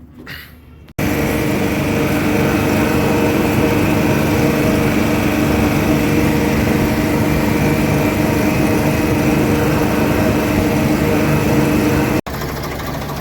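A tractor engine starts abruptly at a sugar mill and runs at a steady, loud, droning idle for several seconds before cutting back down.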